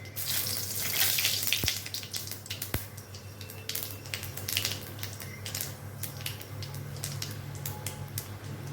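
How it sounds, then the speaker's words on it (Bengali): Bay leaf and cumin seeds hit hot oil and sizzle with a steady, hissing crackle that stays close and fairly even throughout, with a couple of faint clicks near the start. "তেলটা গরম হয়ে গেছে এই যে দিয়ে দিচ্ছি তেজপাতা এই দিয়ে দিলাম সাদা জিরে"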